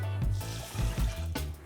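Water is poured into a pot of seasoned rice for takikomi gohan, Japanese mixed rice, making a steady splashing fill with a few louder surges, close by and alone.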